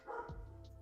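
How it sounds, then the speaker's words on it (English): A neighbor's dog barks in the morning, a short burst of a bark or yip close by, then a low steady rumble carries on after it. "Just a neighbor's dog. Very friendly though. Loves to bark in the morning."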